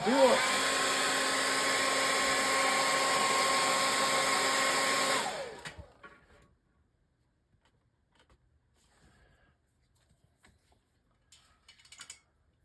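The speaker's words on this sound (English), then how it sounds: "so now I'm gonna dry this" A hair dryer drying paint on a model wagon scene blows loud and steady for about five seconds, then switches off and winds down, leaving near silence with a few faint small handling sounds.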